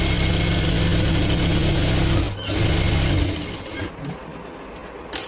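Sewing machine running a double stitch line on a kurti, a steady close mechanical whir for about two seconds, then a brief pause and shorter bursts as the stitching slows and stops.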